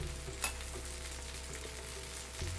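Oil sizzles around a dosa frying on a hot pan, a faint steady crackling hiss over a low hum with one small tap, no voices.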